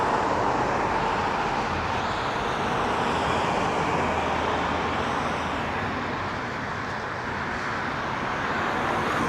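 Street traffic on Ellesmere Road in Toronto, a continuous broadband roar of passing cars and heavier vehicles, swelling and easing slightly over the whole stretch with no talk.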